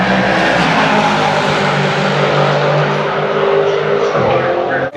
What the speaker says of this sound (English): you probably just hear a car screaming by me